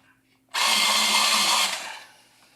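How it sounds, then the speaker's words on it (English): A pencil sharpener whirs in one loud, steady burst lasting just over a second, starting abruptly and trailing off quickly. "Pencil sharpener."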